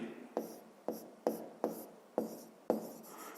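Scratchy strokes of a pen writing out a fifth-grade math exercise solution, converting square decimeters to square meters: about six short, evenly spaced marks, each a quick rasp that fades, close and quiet with no talking.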